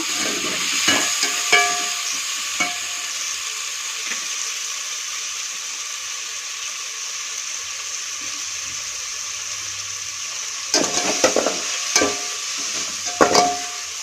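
Tomatoes and onions sizzle steadily in a pan as ghee rice is prepared, with a continuous frying hiss and a few louder scraping bursts from stirring near the start and end.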